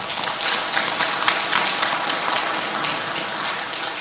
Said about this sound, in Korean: 찬탄의 박수 부탁드리겠습니다